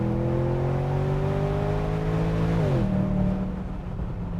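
A BMW 650Ci engine revs hard in sport mode and climbs steadily in pitch, then briefly drops as it shifts, loud and continuous with no talking.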